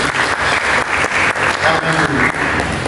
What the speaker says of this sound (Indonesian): Mari kita berikan tepuk tangan kepada Yesus